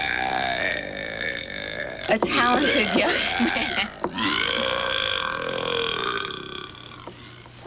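A long, loud, drawn-out burp with a wavering, croaky tone, followed by another stretched belch; someone briefly speaks in between. The burping is a nephew's.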